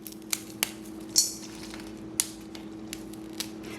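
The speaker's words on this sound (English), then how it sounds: "So breaking them now before I rehydrate might be a good thing." Freeze-dried carrots being snapped into pieces by hand, giving a handful of sharp, brittle cracks and crunches spread across a few seconds over a faint hum, with no talk.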